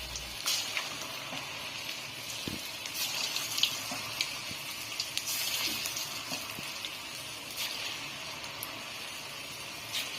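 Small idli batter bondas sizzle and crackle steadily in hot oil, a soft, continuous frying hiss with faint pops and no voices.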